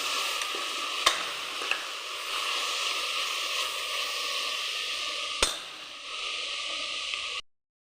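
Onions sautéing in a pan for a crab roast, a steady close sizzle with spatula stirring and a couple of sharp scrapes against the pan, ending abruptly.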